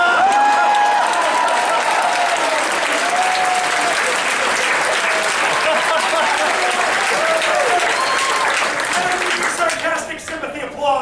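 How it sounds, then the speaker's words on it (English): Loud, full audience applause ringing out after a performer's long-practised trick, sustained clapping with a faint undertone of crowd noise and occasional murmurs, holding steady before thinning slightly at the end. "Sarcastic sympathy applause."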